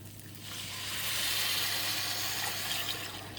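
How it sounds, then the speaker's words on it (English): Paella sizzling in a pan just after water and a packet mix are added, a steady hissing and bubbling that swells in the first second and then holds fairly loud, with no talking. "Do you want to hear this sizzle?"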